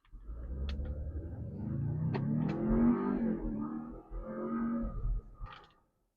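A 2026 Jeep Grand Cherokee Limited Reserve with an inline-four engine accelerates hard, its steady engine roar building and holding for about five seconds before fading, recorded from close by.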